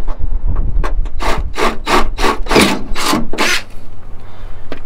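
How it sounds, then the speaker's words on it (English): A 1/4-inch drill bit bores out a hole in the door of an older Ford pickup, giving a loud, steady grinding and rasping drill sound in repeated bursts that ends in a low motor hum. "I just go where the hole is, try to be as square and centered on it as I can, like that, and just drill it out"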